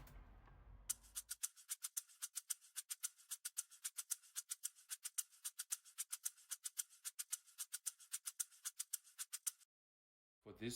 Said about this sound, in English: It's just a shaker.